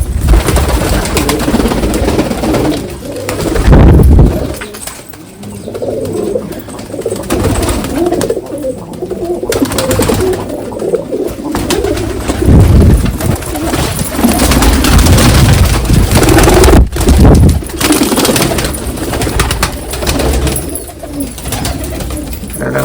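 Pigeons coo repeatedly in low, throaty bursts, several birds overlapping nearby, with steady background rumble throughout.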